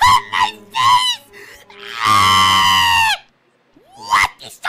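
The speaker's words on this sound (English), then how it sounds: "What is all that screaming?" Loud sustained screams with strong harmonic bands, a long cry lasting about a second, mixed with shorter excited vocal bursts and yelps before and after, up close in a cartoonish comedic show setting.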